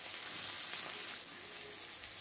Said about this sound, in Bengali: পেঁয়াজ কুচিয়ে রেখেছিলাম, পেঁয়াজটা দিয়ে দিলাম